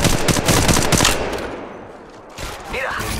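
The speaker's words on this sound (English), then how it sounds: "Shot fired and they're hitting me." Loud, close automatic fire in Apex Legends Mobile, a dense rattling burst that fades, then resumes briefly with a whizzing effect, partly under a voice.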